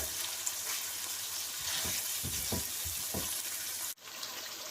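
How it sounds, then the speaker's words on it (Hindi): Minced meat sizzling in a hot pan while a spoon stirs and breaks it up, a steady frying hiss with soft scraping strokes, close and fairly quiet, ending with a brief cut. "हम अपने चम्मच से ऐसे इसको कर देंगे ताकि गुठलियां ना बने।"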